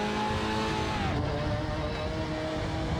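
Singer Porsche engine from a driving video game, a steady droning roar with shifting harmonic tones that dip and rise as the car is thrown around, loud and continuous without talk.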